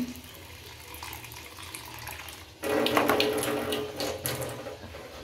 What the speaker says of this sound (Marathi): घेवडा आता मी धुवून घेते